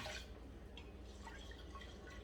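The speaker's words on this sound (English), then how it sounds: "add a cup of water into the rice" A cup of water poured over rice in a quick cooker pot gives a faint, soft trickle and light dripping splashes, quiet and close under a low room hum.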